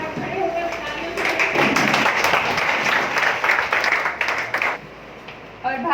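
Dense clapping from a standing audience at a village gathering in Kapaseda, where masks and sanitizer are handed out to children. It swells for several seconds, mixed with voices, then eases off.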